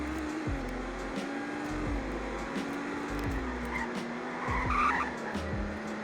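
A car in the Roblox driving game, set in Greenville, Wisconsin, slides with its traction control on, giving a steady engine drone with tire skid noise and low rhythmic thumps, with no talking.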